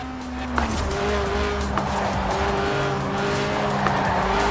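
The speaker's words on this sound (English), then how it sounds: "The trick with drifting is to not actually spin, but to almost spin for as long as possible." In Forza Horizon 4, a light car of under 700 kg with a 190-horsepower 1.8-litre engine revs steadily while tires squeal in a long, sustained drift, with a few sharper bursts of screeching along the way.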